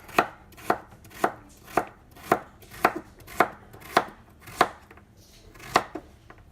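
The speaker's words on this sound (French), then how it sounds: "Pour couper les carottes, on les coupe dans le sens de la longueur en deux, puis encore en deux, et ensuite en petits morceaux." A knife chops carrots into small pieces on a cutting board in about a dozen crisp, evenly spaced strikes, close and clear with no talk.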